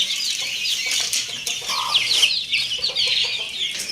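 Chickens clucking busily while pecking at wet rotis tossed to them, a flurry of overlapping clucks and short squawks close by, with no talk.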